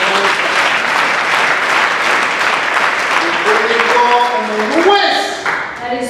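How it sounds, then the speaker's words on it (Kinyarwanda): A church congregation applauds in a loud, sustained wash of clapping, with tonal voices or music rising briefly near the end. "Mwambere Imana amashyi n'umuhari."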